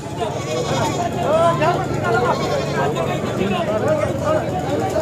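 Goats bleat repeatedly at the Sangola goat market, their wavering cries overlapping with nearby chatter and general market noise.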